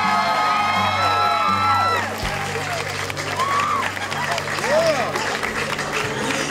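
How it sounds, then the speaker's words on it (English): A Pride event crowd applauds and cheers outdoors, with dense clapping and scattered whoops; a voice carries at the start before the applause takes over. "Give yourselves a round of applause."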